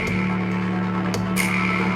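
A heavily compressed audio signal from a mastering demonstration plays as a dense, steady, flat-level tone with a constant hum and pulsing texture, without pauses.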